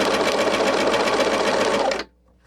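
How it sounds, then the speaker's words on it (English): A sewing machine runs steadily for about two seconds, sewing straight stitches with a loud, even mechanical whir, then stops abruptly, leaving near silence. "Now let's do a few straight stitches."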